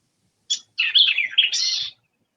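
Recorded call of a wren-like bird played back: one short chirp, then a loud, harsh, unmusical run of buzzy notes lasting about a second, alone against silence.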